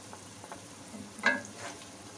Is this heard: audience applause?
no